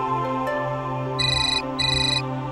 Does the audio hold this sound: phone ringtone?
yes